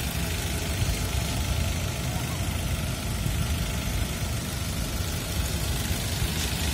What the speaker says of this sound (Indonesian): Suara mesinnya cukup halus.